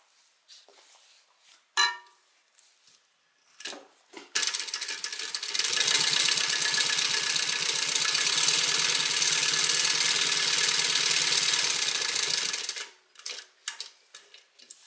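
A sewing machine bastes the bottom of a fabric beverage bag in place, running in one steady, fast, rhythmic burst of about seven seconds, framed by quiet handling clicks and taps before and after.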